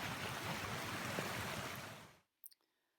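A creek swollen after spring rains rushes in a steady broadband wash for about two seconds, then cuts off abruptly, leaving near silence with a couple of faint clicks.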